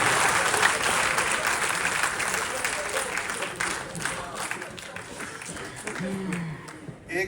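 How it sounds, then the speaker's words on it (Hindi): Applause from an audience at a speech in a hall, a dense, steady clapping that fills the room and gradually thins toward the end, with a brief voice surfacing near the close. "और अंतिम बात पर फिर आपकी तालियां उठेंगी"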